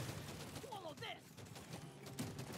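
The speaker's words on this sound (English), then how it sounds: "Lots of explosions." Dense Deep Rock Galactic Survivor gunfire and explosions crackle continuously, with a few synthetic chirps and whooshes mixed in, busy and steady throughout.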